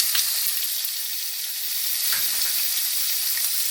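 Onion paste sizzling in about three spoons of hot oil with cumin seeds in a kadai, a steady bright hiss with occasional crackles and light stirring, close and alone.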